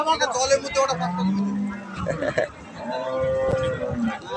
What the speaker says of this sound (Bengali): একটা চার দাঁত একটা ছয় দাঁত এই যে গরু জোড়া